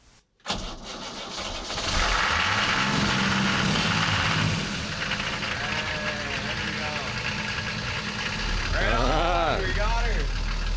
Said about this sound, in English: All right, so we got the engine started, me and Brandon, and it was super foggy when